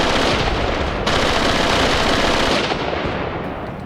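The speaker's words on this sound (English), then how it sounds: "MG34, they are just ripping." MG34 machine guns fire in long, rapid, loud bursts in the Graviteam Tactics Mius Front war game, the continuous rattle easing slightly near the end.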